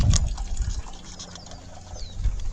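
A hall bathroom toilet flushing during a sewer flow test to clear a clog, water gushing and gurgling loudly at first, then settling into a softer trickling flow before a brief renewed surge.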